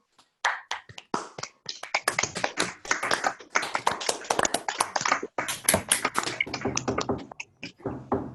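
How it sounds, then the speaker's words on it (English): Scattered, uneven clapping from several people joining over an online call, a dense patter of hand claps lasting several seconds with no talking. "if you unmute yourself and applaud the speaker"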